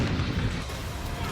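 A French artillery gun firing, heard as a loud, dense boom with a rumbling roar that fills the whole short moment, steady and close with no pause.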